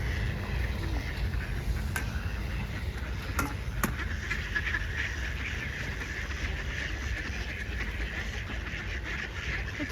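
Out on icy water in Sweden, several ducks give scattered quacks at a moderate distance over constant outdoor noise, with a few sharp clicks mixed in.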